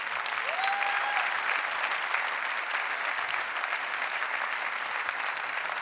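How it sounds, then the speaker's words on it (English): Steady, dense applause from a large audience at the MotoGP awards ceremony, continuous and even for several seconds, with a brief rising tone near the start. "So a round of applause for Mr. Espoleta as well,"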